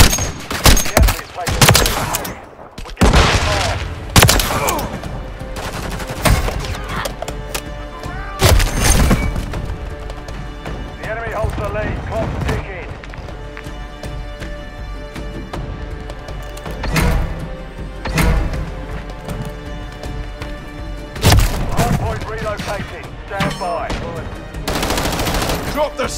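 Heavy automatic gunfire in Call of Duty: Modern Warfare 3 multiplayer: loud, close machine-gun bursts and scattered single shots with thumping booms, coming in repeated clusters over a busy battlefield din.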